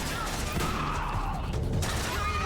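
Gunfire in the video game Metal Gear Solid 4, a dense rattle of shots and crashes through game noise, with a voice sounding faintly in the mix.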